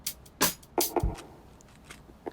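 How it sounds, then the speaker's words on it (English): A few short, knocky percussive taps taken from a guitar tap percussion loop, in an irregular pattern, each trailing off into a reverberant tail, with quiet gaps between them. "it's two little knocky perk noises"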